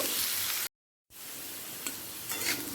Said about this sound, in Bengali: আলুটা হালকা লাল করে ভাজা হয়ে গেছে